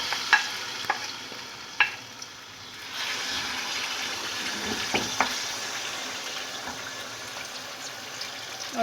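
Marinated tandoori chicken with yogurt and oil sizzles and fries in a karahi, with intermittent clinks and scrapes of a spoon stirring; the sizzle swells louder partway through and holds steady, with no talking.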